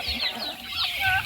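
Hens and chicks on a farm, with mothers penned below, peep and cluck in a busy close-up chorus of high chirps with soft clucking beneath.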